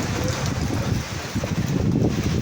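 Heavy typhoon rain pours down in a dense steady hiss, mixed with gusty wind rumbling against the microphone, no talking.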